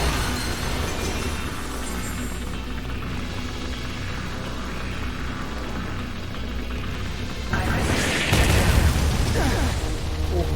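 Explosions burst in the Astral Chain video game, a dense run of booms and crackling blasts over continuous game rumble, swelling into a louder, harsher burst near the end.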